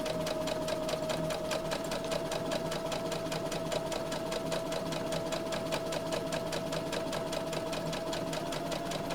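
A sewing machine stitches patchwork fabric in a fast, even run of needle strokes, close and continuous throughout with a faint motor hum beneath.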